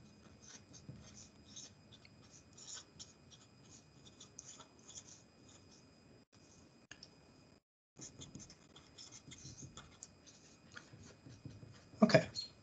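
Marker or chalk writing on a board during a math lesson, faint scratchy strokes and taps in uneven bursts with a short pause, then a louder squeak near the end.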